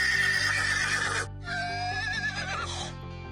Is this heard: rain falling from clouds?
no